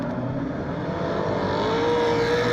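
Saloon race cars, including a Mustang, Corvette and Monza, race at Riverside Speedway, their engines droning as a steady, fairly distant roar with one rising note emerging toward the end.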